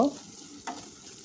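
Olive pickle cooks in a pan on the stove, a brief low sizzle with one sharp spoon scrape partway through, close and alone.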